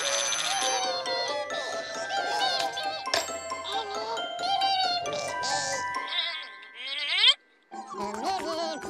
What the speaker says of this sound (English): Mr. and Mrs. Wottinger, the Trubliphone is ringing